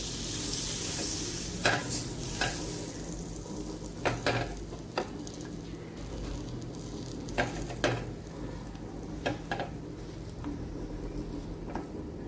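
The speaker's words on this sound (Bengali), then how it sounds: "এই যে ব্রেড আছে কয় পিস, এটা এখন বাটার দিয়ে সেঁকে নেবো।" Butter and bread pieces toasting in a home kitchen pan: a steady soft sizzle with scattered sharp scrapes and taps from a utensil stirring and pressing the bread, close up and without talk.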